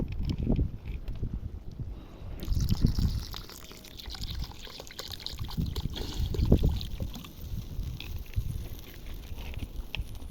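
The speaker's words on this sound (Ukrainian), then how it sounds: "Додаємо води на два пальці." Water is poured into a cooking pot holding a turmeric-coloured dish, giving soft, uneven splashing and trickling close by over a quiet background.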